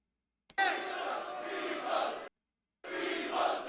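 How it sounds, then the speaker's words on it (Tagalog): Crowd at a rap battle cheering and yelling in a distant, roomy roar, two sustained bursts separated by a short silence. "Alive na alive yung crowd."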